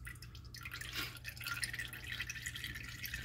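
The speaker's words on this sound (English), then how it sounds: "You'll get a little more oil coming out of here as well, so move your drain pan over." Motor oil drains from the drain plug of a 2014-2020 Nissan Pathfinder into a drain pan, heard as faint, steady dripping and trickling with no talking.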